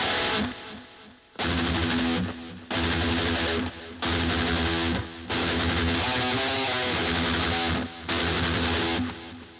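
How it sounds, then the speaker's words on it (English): Electric guitar through an iOS amp simulator, chords bouncing with a ping-pong delay, repeats trailing after each strum, loud and continuous with no talking. "Ping pong."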